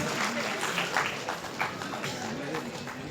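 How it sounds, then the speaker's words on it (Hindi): Crowd applause at a student award ceremony, a continuous patter of many hands clapping under a speaking voice, moderately loud throughout. "एक बार तालियों के गणगणाट के साथ सभी का सम्मान करेंगे।"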